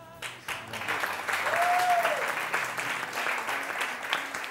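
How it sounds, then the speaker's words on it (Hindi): A studio audience at a TV morning show applauds, a moderate wash of many hands clapping that swells slightly in the middle and keeps up evenly, with some murmur underneath. "इस पर तालियां को कम बजी हैं"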